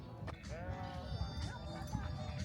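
Sheep bleat on a sheep farm, several wavering calls rising over a steady background of outdoor noise, moderately distant and fairly faint.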